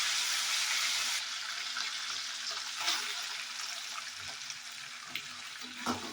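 Onion and capsicum hiss and sizzle in a hot pan for paneer chilli, a loud burst of frying at first that settles into a steady softer crackle with occasional stirring clinks.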